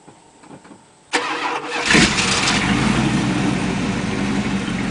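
A Dodge Ramcharger with MSD ignition and straight-pipe dual exhaust cut off at the cats cranks over and fires, then settles into a loud, steady, raspy idle close by with a slight rev.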